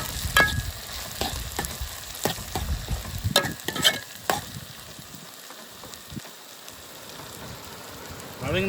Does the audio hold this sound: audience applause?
no